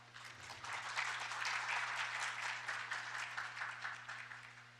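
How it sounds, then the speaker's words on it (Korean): Applause from the audience at an international patent court conference session, a soft, even wash of clapping that swells and holds, somewhat distant and quiet, with a steady low electrical hum beneath it. "큰 박수를 부탁드립니다"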